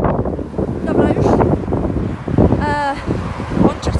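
Wind gusts outdoors and buffets the microphone in a steady low roar, while someone talks over it throughout.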